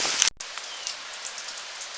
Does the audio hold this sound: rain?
yes